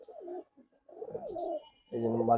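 Palla line pigeons coo in short repeated bursts, close and fairly loud, the calls growing fuller toward the end.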